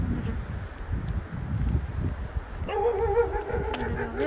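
A dog yips and whimpers at a stranger outdoors in gusty wind on Jeju, the short cries rising over a blustery, rumbling background.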